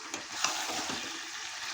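Pieces of goat meat are stirred and browned in hot oil in a kadai, a close, steady sizzle broken by a couple of quick scraping stir strokes.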